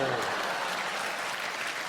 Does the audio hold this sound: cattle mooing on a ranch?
no